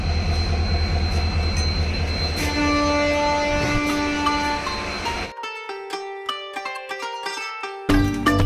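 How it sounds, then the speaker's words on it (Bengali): A passenger train pulls out of Panagarh station in West Bengal, its steady rumble and tonal hum giving way to clattering wheels and rhythmic rail clicks as it gathers speed, with no talking. "ট্রেন ছাড়বে।"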